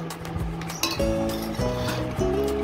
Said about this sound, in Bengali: এই হাতার সাহায্যে এই কৌটোর মধ্যে আমি রাখবো